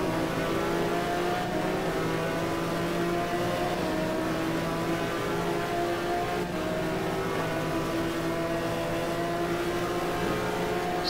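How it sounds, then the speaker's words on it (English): A race car's engine drones steadily at Suzuka during a GT1 feature race as a car does donuts, a continuous loud revving hum with shifting pitch and no pauses. "Sounds like we got somebody doing donuts."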